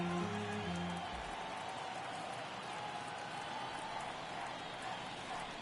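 Steady broad crowd murmur fills a virtual MLB baseball stadium in MLB The Show 22, a game against the Rangers, holding a continuous even roar with some low tones early on and no clear peaks.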